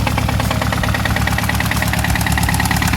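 A Hyundai Avante engine runs steadily up close, its idle carrying a rhythmic knocking that points to a possible piston fault, with a continuous dense mechanical drone throughout and no voices.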